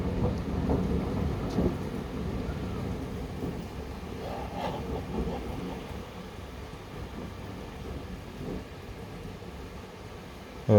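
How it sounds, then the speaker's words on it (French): Hailstorm with thunder and rain in Alsace: a continuous dense roar of falling hail and heavy rain with low rolling thunder underneath, steady throughout and heard alone without voices. "Il y a de la grêle qui tombe chez moi."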